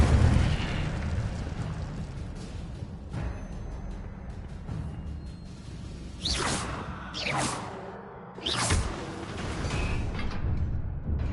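Incendio fire spells cast in Hogwarts Legacy burst out as several whooshing, booming blasts clustered in the second half, over a steady rumbling game backdrop.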